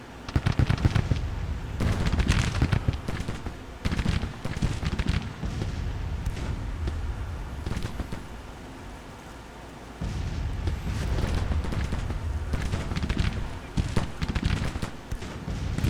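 Civil War cannon and musket fire in the strategy game Grand Tactician: The Civil War, a dense, continuous roar of overlapping booms and crackling volleys, loud throughout, with someone talking over the battle.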